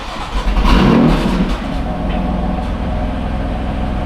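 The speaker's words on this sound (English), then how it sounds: "that's a cold start. It's not that loud" A car engine cold-starting in a garage, a loud burst as it catches and briefly revs, then dropping into a steady, fairly loud rumbling idle that continues to the end.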